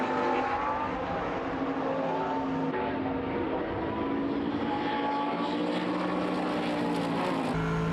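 GT1 race cars, including a McLaren, roar past during an FIA GT1 World Championship race in Germany, with loud, continuous engine noise throughout and no talk.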